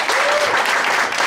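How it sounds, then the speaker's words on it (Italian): An audience in a hall gives a round of applause, dense steady clapping from many people, heard close and loud throughout. "possiamo fare un applauso a Malvina di Trebisonda?"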